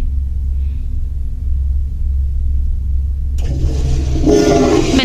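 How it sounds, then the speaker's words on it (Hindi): An automatic sensor toilet in a Japanese washroom flushes loudly, bursting in suddenly after a few seconds of low hum, rushing and swirling water that keeps building to the end. "टच भी नहीं किया और फ्लश हो गया"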